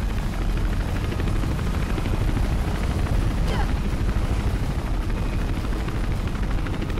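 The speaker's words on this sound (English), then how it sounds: "I don't understand why a helicopter's chasing me." Helicopter pursuing the player in the video game Mirror's Edge, a steady loud rotor drone with low engine roar running throughout, under faint scattered game sounds.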